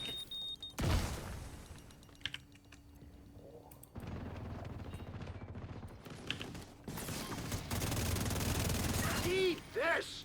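Rapid automatic gunfire and explosive shots from a first-person shooter video game rattle in dense bursts, with mechanical clatter and shattering impacts filling most of the clip, a voice briefly heard near the end.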